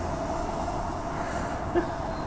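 Perth commuter train on the Armadale Line passing Perth Stadium, a steady low interior rumble and hum with a brief knock partway through.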